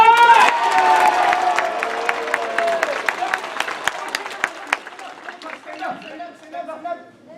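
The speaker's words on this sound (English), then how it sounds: "One more time, big cheer." An audience at a martial arts belt test claps and cheers, with shouting voices over steady clapping that slowly thins into scattered claps and chatter.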